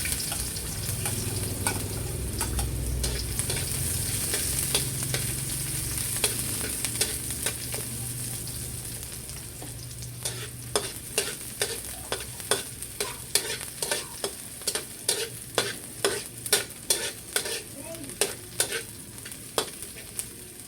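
Garlic and onion sautéing in hot oil for sinigang na bangus, a close steady sizzle that gives way to a run of crisp, evenly spaced scrapes of a spatula against the pan.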